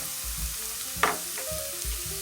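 Minced garlic sizzles in a pan for a one-pan chicken and rice dish, a close steady frying hiss with a brief scrape of stirring partway through.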